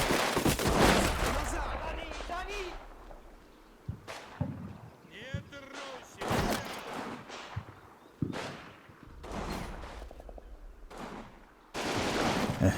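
Machine gun fire in the video game Combat Mission comes as loud bursts and explosions spaced across the clip, with crackling fusillades between them. A narrator speaks in the quieter gaps.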